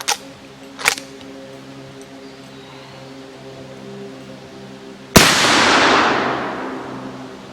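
An Uberti 1860 Henry lever-action rifle is fired at steel targets outdoors. Two sharp reports come early, then after a long quiet gap one loud shot booms and echoes into a lingering rumble. No voice is heard.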